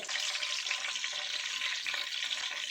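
Green chillies sizzle and spit in hot ghee while mutton keema is cooked, a steady, close, continuous frying hiss with no voices.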